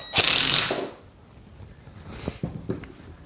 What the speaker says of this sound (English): Then I'll just use the impact wrench to tighten that up.